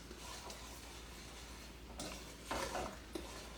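A spoon stirs a pot on a stove as the mixture is brought to a boil, with soft scraping and occasional clinks over a steady low background hiss.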